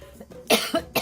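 A few short, harsh coughs in quick succession, close and fairly loud, from a woman giving a live reading, with brief pauses between bursts.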